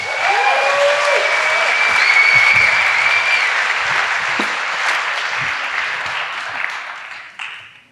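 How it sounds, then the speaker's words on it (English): Applause for a speaker at a live design and climate event in Amsterdam, with a full crowd clapping steadily, a few whistles over the top, fading gradually before a last brief burst and silence. "Give him a round of applause"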